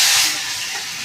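Tilapia fish dropped into hot oil in a pan, a loud close hiss that flares at once and then settles to a steady sizzle, with no talking.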